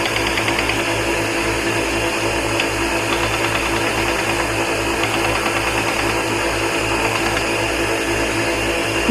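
A belt grinder runs steadily and loudly while a clipped point knife blade is ground at 220 grit along its center line, a continuous even motor roar with a low pulsing hum and no pauses.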